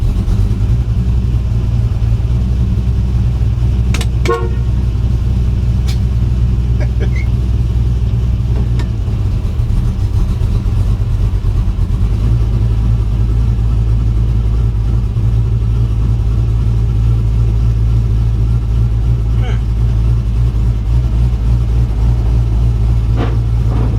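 A 1976 Chevy C10 pickup's engine runs steadily throughout, a loud, dense low rumble with a few brief clicks and knocks over the top and no talking.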